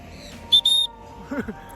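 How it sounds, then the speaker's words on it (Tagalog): A whistle blown outdoors to call two lost sun conure parrots gives two short, shrill blasts, followed by a brief low murmur of a voice over a quiet background. "Buti nagdala ako ng pito."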